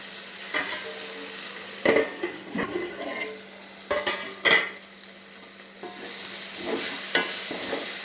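Masala fries in a pan for bagara rice, giving a close sizzle broken by several sharp scrapes and clinks of stirring, with no talking.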